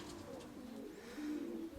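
A pigeon, a grey scaled bird kept by a breeder, coos softly several times in a low, rolling rhythm, quiet and fairly close, with no talking.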